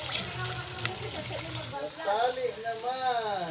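Cups of water pour into a pot of tuna adobo, a splashing gush that turns into a rising, gurgling fill toward the end, close and moderately loud.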